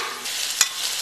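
Grass carp ingredients stir-fried in a wok, a steady close sizzle with a single sharp scrape of the spatula partway through, no voices.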